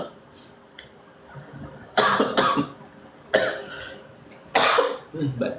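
A man coughs several times in harsh, loud bursts spaced a second or so apart, with quieter breathing and throat noise between the fits.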